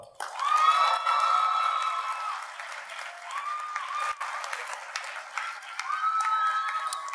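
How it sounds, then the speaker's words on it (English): An audience at a university award ceremony applauds the winner of the Faculty of the Year Award, sustained clapping with a few cheers and whoops lasting the whole stretch, loud and dense. "Please welcome me in applauding the winner of this year's Faculty of the Year Award"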